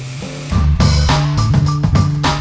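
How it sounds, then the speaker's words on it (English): Marinated chicken thighs hit a hot grill pan with a sudden loud hiss, then sizzle and spatter in bursts close by. "So we're gonna grill them in our grill pan"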